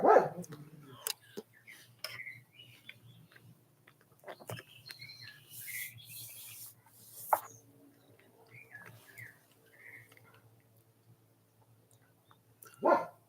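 Dogs at home bark in sharp separate bursts at the start and end, with scattered quieter yips and rustling in between, against a faint background hum; no one talks.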